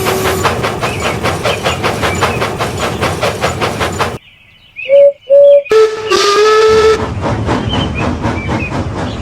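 Steam engine Douglas chuffing in a fast, steady rhythm, then a quiet gap broken by two short whistle toots and a longer whistle blast before the loud, close puffing resumes.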